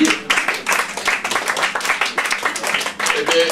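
Audience applause at an indoor gathering: dense, lively clapping from many hands, steady and close throughout, with a voice briefly audible in the background.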